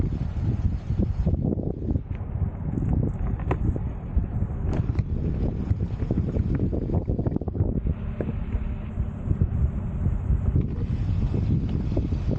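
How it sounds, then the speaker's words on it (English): A sailboat's motor runs steadily while underway, a continuous low droning rumble mixed with wind buffeting the microphone and water noise throughout, fairly loud and unbroken, with no talking. "we've got the motor started, so we need to drive out of the way."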